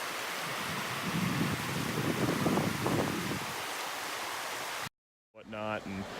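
The North Fork creek near McCarthy, Alaska, running high with snow melt after rain: a loud, steady rushing roar of water, briefly surging, then a cut and a voice speaking.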